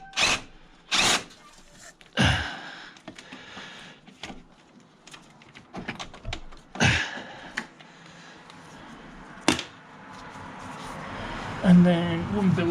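Several short bursts from an impact wrench working on a 2007 VW Beetle, loud and abrupt with pauses between, alongside workshop clatter and voices speaking nearby.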